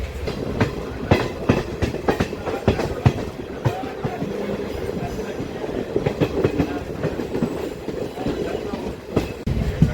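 A DEMU local train on the Kacheguda to Karimnagar route rumbles along the rails, heard from inside a coach with a loud steady roar and rhythmic clickety-clack of wheels over track joints, faint voices underneath.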